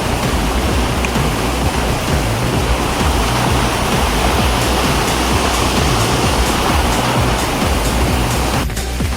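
Ghogata waterfall pours in a steady, loud, dense rush of falling water that fills the whole scene without a break, close and continuous throughout.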